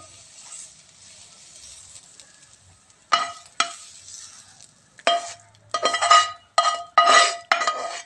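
Grated beetroot bhaji frying in a pan, a quiet hiss that gives way to a run of loud, close scraping stirs in short bursts, spoon rasping against the pan over a continuous sizzle.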